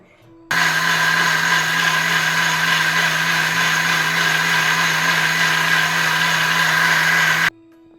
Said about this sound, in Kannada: ಕೊತ್ತಂಬರಿ ಹಾಕೊಂಡು ಸ್ವಲ್ಪ ನೀರು ಹಾಕೊಂಡು ರುಬ್ಕೊಳ್ತಾ ಇದ್ದೀನಿ